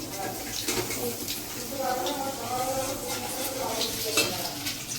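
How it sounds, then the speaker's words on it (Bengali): Momos frying in a pan give a steady crackling sizzle with occasional stirring scrapes, heard up close while people talk over it. "এই যে দাদা নিয়ে এসছে মোমো এইটা এইটাই আমরা ফ্রাই করে খাচ্ছি"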